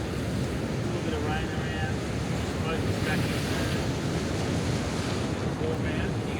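Ocean surf rolls in at Caloundra under storm clouds at sunrise, a loud continuous wash of breaking waves mixed with strong wind buffeting the microphone, no voices.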